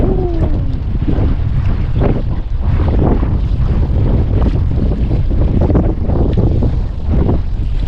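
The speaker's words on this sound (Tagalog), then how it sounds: "Grabe lang sa hangin." Strong wind roars steadily across the microphone with low rumbling buffeting, mixed with the wash of waves and water around a fishing boat at sea; no talking.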